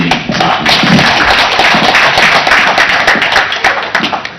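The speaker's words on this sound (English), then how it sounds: "I think the Right Honorable Madam Speaker deserves another resounding applause." Members of the National Assembly of Zambia give a resounding round of applause for the Madam Speaker, loud and close, with dense overlapping claps and a few sharper slaps and thumps scattered through the steady roar.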